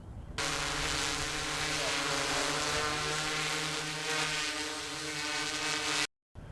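Camera drone in flight: a loud, steady propeller whine with a constant buzzing drone, holding for about six seconds before cutting off abruptly, with no talk.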